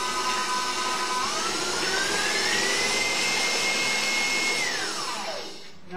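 A stand mixer creams a cream cheese mixture with a loud, steady motor whine that holds even and shifts pitch partway through, then winds down at the end, with no voices.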